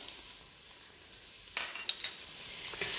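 Onion sautés in a casserole, a faint hiss at first that swells into a louder crackling sizzle halfway through, with a few sharp pops and no talking.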